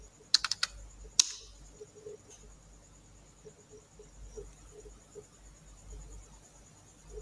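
Brief burst of clicky keystrokes on a computer keyboard typing a short term into a browser, a few quick taps near the start and another at about one second, then quiet room tone with faint ticking.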